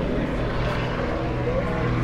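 Overhead, an aeroplane drones above a 2009 Azimut 85 yacht off Miami, a continuous low buzzing rumble, fairly loud and unbroken, with no other sounds standing out.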